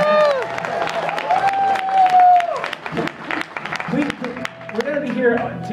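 A convention panel audience at Everfree Northwest 2012 breaks into dense, sustained applause from a large crowd. The clapping continues throughout, with voices and cheering mixed in.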